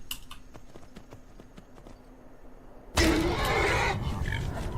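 Horse hooves in the video game Skyrim: a steady, rhythmic clip-clop of hoofbeats for about three seconds, then a sudden loud, broad rush of noise that swamps the steps until the end.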